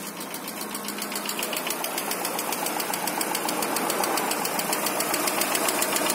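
A Daewoo Nexia engine idling just after a cold start, with a rapid, steady metallic ticking knock running throughout over a low engine hum, close and moderately loud.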